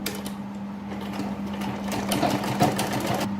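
A sewing machine stitches a seam on a kurti, its motor humming steadily with a rapid, even needle chatter throughout, close and fairly loud.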